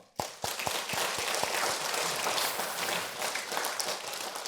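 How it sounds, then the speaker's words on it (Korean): A church congregation gives a sustained round of applause during a Sunday afternoon service, a dense wash of many hands clapping that starts with a few separate claps and then holds steady throughout, with no voices over it. "이렇게 변함없이 주를 위해 헌신하는 우리 모두와 해외 선교회 모두를 위해서 격려와 축복의 박수 할까요?"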